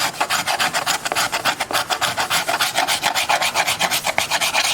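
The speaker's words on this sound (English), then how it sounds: "I'm just using them as a scraper" A metal tool used as a scraper rasps steadily across wood on an old fiddle, making rapid rhythmic back-and-forth strokes, close and loud, with no talk.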